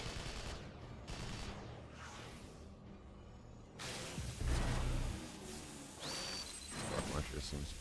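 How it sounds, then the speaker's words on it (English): A launcher weapon firing repeatedly in the video game Hellgate: London: whooshing blasts and bursts of impacts, moderately loud amid game effects, with a voice talking faintly at times. "Launcher seems pretty effective here."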